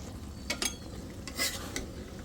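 Curry in a pan being stirred, quiet steady sizzling with a few sharp scrapes and clinks of a utensil against the pan, close and soft.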